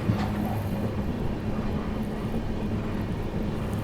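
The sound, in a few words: Prayagraj Express train running through Shikohabad Junction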